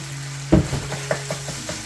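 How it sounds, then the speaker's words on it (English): Pork and holy basil stir fry sizzles in a pan as it is stirred, with a sharp clatter of the utensil followed by a few lighter scrapes over a low steady hum. "Mix this up a little bit here. Let that cook for about another minute or two."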